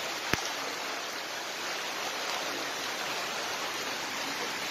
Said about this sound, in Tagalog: Lubog ang bahay ko sa baha.